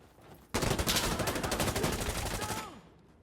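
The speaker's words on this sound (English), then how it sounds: "Why are you shooting me?" A sustained loud burst of rapid automatic gunfire in the military shooter Insurgency: Sandstorm, lasting about two seconds before tapering off, with a faint voice beneath.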